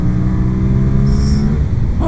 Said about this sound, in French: on entend la boîte à air qui s'énerve